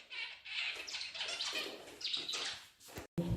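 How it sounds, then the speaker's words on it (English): Pet budgies indoors chirp and tweet in quick bursts, bright and close, with brief wing flutters and a sharp clatter near the end, no voices. "Because they heard the other birds."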